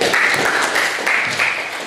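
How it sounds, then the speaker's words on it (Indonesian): Brief classroom applause for a student who read aloud, a short burst of clapping from pupils, moderately loud and fading toward the end. "Tepuk tangan ya."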